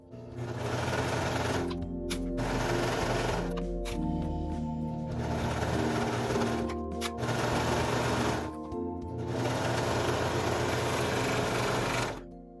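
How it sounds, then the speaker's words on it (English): Sewing machine stitching a T-shirt's sleeve and side seam in one continuous run, a steady loud mechanical whir in long bursts broken by brief pauses. "sew from the sleeve down the side in one continuous seam"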